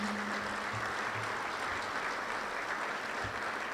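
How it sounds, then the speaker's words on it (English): A banquet audience at the National Football Foundation dinner applauds the NFF executive committee, a steady, fairly quiet wash of clapping from many hands that holds evenly throughout with no voices over it. "Please give these gentlemen a round of applause"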